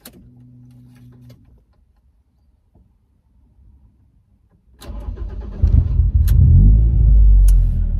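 2005 Ford Fiesta ST cranking after a short electronic chime and quiet pause, then firing up and settling into a loud, close, rumbling idle.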